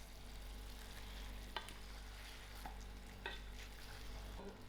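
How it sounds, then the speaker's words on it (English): Tomatoes being stirred in a pot of Sri Lankan-style coconut chicken curry, with a steady low sizzle and a few soft scraping strokes of the spoon spaced through the mix. "Give this a nice mix."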